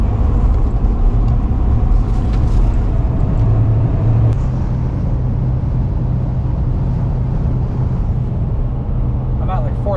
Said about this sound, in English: I can't seem to shift out of 3rd gear.